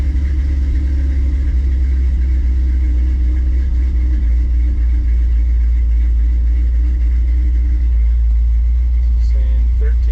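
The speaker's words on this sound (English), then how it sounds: "So far so good. Not getting the weird idle fluctuation." A 1957 car engine fitted with FiTech fuel injection idles steadily and close by, a constant low rumble with a smooth, even tone throughout.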